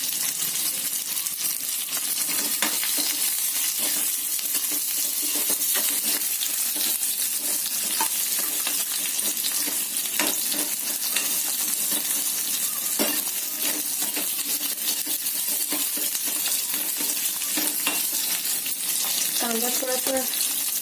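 Large chunks of onion frying in a pan for an okra (bhendi) gravy, giving a steady close sizzle with scattered clicks and scrapes of stirring and no talk.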